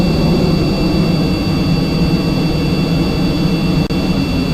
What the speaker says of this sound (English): Turn off the afterburner.